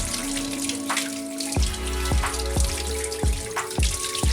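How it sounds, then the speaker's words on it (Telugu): A water purifier part is rinsed under running tap water, a steady splashing stream over a sink with repeated knocks and drips as the piece is handled and turned, close and alone. "నీట్గా వాష్ చేసిన తర్వాత లాక్ను కూడా వాష్ చేసుకున్నాం"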